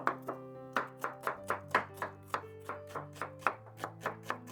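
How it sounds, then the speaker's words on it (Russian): A knife chops garlic and onion on a cutting board for a meat filling, giving a steady run of about fifteen crisp, close knocks at an even, brisk rhythm with no talk. "чеснок и лук, режу средними кусочками."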